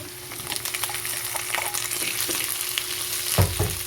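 Chicken and mushrooms stir-fry in a hot pan, a dense continuous sizzle with light scraping of a utensil and a louder knock near the end.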